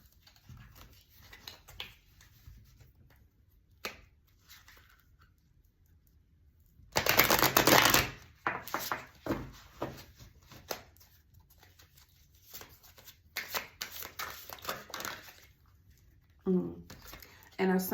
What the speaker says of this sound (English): Let's pull all the cards first